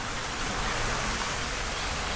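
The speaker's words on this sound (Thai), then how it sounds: "เป็นน้ำไหลออกเลย" Water spilling out of a garden water feature beside a koi pond, a steady close rushing wash of flowing water that stays even and continuous, with no voices.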